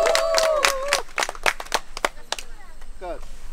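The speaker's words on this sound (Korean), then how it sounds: "박수 한번 더 주세요" A group of campers clapping at a camping gathering, a run of several sharp claps over the first two seconds, close by, with voices and cheering mixed in and continuing afterward.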